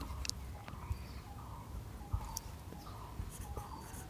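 A pen writes on paper while a seventh-grade math exercise is worked out, producing faint, soft scratching strokes in short bursts against a quiet room hum.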